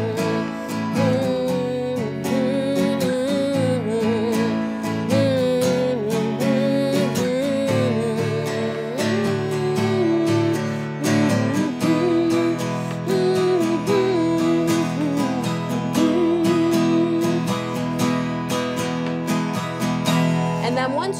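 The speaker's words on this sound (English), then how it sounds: "I'm gonna use the harder strumming pattern. It would sound like this for this verse." Electric guitar strumming verse chords in a hard, busy strumming pattern, steady and loud throughout for about twenty seconds.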